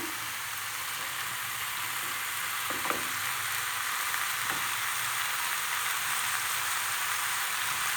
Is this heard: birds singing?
no